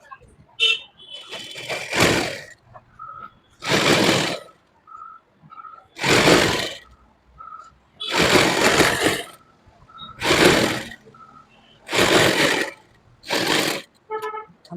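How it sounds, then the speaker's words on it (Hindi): A sewing machine stitching the lining of a suit runs in short, loud bursts roughly every two seconds, separated by brief pauses with faint tonal hum. "अब हम इस तरफ से उल्टा कर देंगे अस्तर की तरफ से। हम इस तरफ से भी सिलाई लगा देंगे।"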